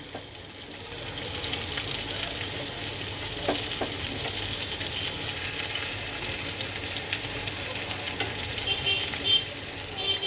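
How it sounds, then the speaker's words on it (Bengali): Boiled potatoes drop into hot oil in a pan and fry with a loud, steady, close sizzle that swells after the first second and continues evenly, with faint clinks and no speech. "এখন আমি ভেজে নেব আলুগুলো এই আমি এখন আলুগুলো দিয়ে দেব"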